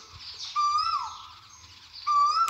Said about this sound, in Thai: ฟังเสียงนกร้องตัวนะเจ้า